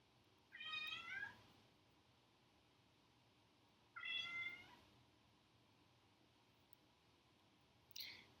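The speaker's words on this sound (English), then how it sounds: "Zelda, why are you meowing?" A cat named Zelda meows indoors in a quiet room, giving two drawn-out meows a few seconds apart and then a short third one, fairly faint and with no talk over them.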